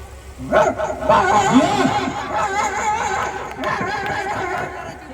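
A voice imitates a dog barking, giving a run of rough, yappy barks close up, with a snicker-like quality between them.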